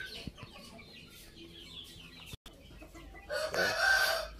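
Two-month-old Indio Gigante chickens cluck and call nearby in short bursts, with a louder burst of bird calls toward the end.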